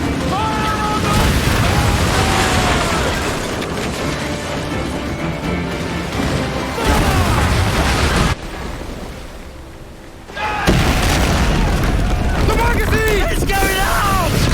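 Ship cannons firing during a naval battle in the Assassin's Creed Black Flag game, loud booming blasts and rumbling bursts mixed with shouted orders and crackling, with a brief lull before the barrage resumes.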